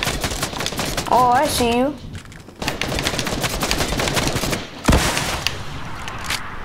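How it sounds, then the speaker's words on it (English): Rapid bursts of gunfire ring out during a Fortnite match, sharp repeated shots in quick clusters under excited player talk. "Who's shooting me?"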